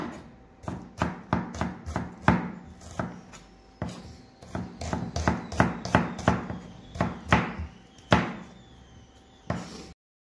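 A knife chops quickly on a board in rapid, uneven bursts of sharp close knocks, pausing briefly before more fast strokes.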